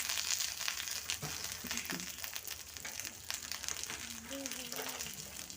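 Oil sizzles in a pan as fish coated in fish fry masala fries, a steady close crackle with occasional stirring clinks and a voice talking over it.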